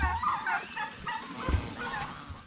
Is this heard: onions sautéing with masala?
no